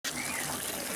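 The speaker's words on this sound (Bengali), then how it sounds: "এরপর জল দেওয়া হবে দেখো" Water pours into a cooked spice mix in a pan, a brief, steady close gush with hissing texture lasting about a second.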